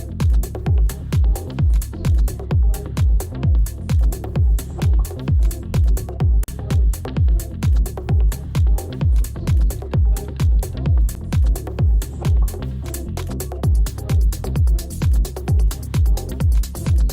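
A steady, rhythmic electronic loop of repeating pulsed synth notes over a deep bass, loud and continuous with a brief softer dip midway.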